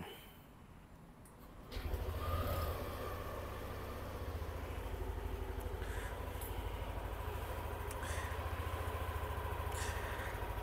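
A Yamaha NMAX scooter engine cranks and catches after a short quiet moment, then settles into a smooth, even idle that holds steady and close.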